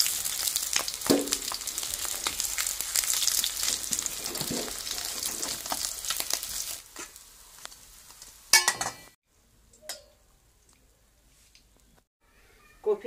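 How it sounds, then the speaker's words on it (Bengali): Cauliflower pieces fry in hot oil in a pan for a rohu fish curry. A loud, steady sizzle lasts about seven seconds, then drops away to near quiet with a few faint clinks and stirring knocks. "কফিটা ভেজে নিচ্ছি"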